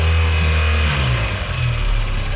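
A boat engine runs after its air filter was cleaned, fuel filter drained and throttle adjusted, a steady close mid-pitched drone with a slight change in revs partway through, alone without talk.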